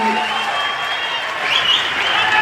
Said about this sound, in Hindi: जोर से ताली बनाइए